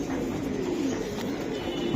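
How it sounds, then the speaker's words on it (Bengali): A crowd of pigeons at a bird market coos continuously in a dense, even murmur. The sound is steady and fairly loud, with no single bird standing out. "এই যে ভাই কবুতর"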